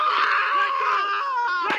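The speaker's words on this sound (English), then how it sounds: "He's screaming, and he reaches down and ends up pulling his dog off." A man screams in pain while a police K-9 bites him during the arrest of a fleeing auto theft suspect, a continuous, strained, close cry lasting the whole moment with no words.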